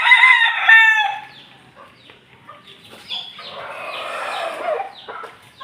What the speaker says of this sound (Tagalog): nakalabas yung dalawa kong sisiw mga kabakyard